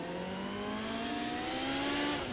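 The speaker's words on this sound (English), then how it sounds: "Oh, the noise of this car." A Porsche race car engine in Project Cars 2 drones loudly and steadily, its pitch slowly climbing as it accelerates, with no voices.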